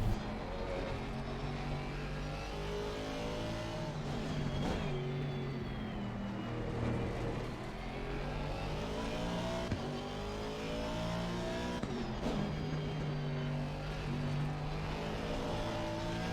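A race car engine in a racing video game roars steadily at high revs, with gear shifts and dips in pitch as the car brakes into corners and accelerates out, loud and continuous with no talk.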